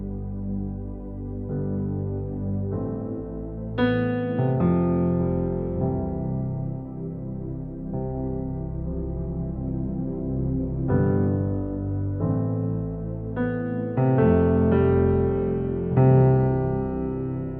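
Sustained synthesizer pad chords from a budget keyboard, Nord Stage style, swelling through slow chord changes with rich harmonics, played alone at steady moderate loudness.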